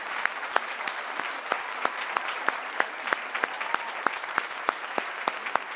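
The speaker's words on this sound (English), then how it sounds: "So let's please join me in giving Christine and Chelsea and all the nominees tonight a big round of applause." Steady audience applause for nominees at an awards ceremony, a dense wash of clapping with sharper individual claps standing out at a fairly regular pace, heard from some distance.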